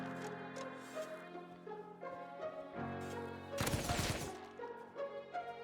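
Gunshots in the survival game Rust, loud close rapid bursts in a cluster near the middle, over a steady bed of layered game music.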